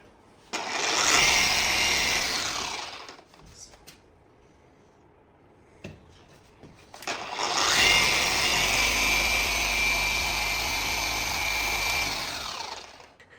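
A polishing machine works the fuel tank of a Yamaha R25 motorcycle, its loud close whine running for a couple of seconds, dropping away briefly, then starting up again and holding steady.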